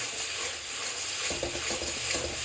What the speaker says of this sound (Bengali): সুন্দর করে কষাবো, যত কষাবে তত টেস্ট